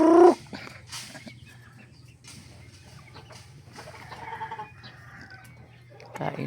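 Farmyard chickens kept near a road cluck intermittently at close range, with a louder outburst at the start and again near the end over a low steady hum.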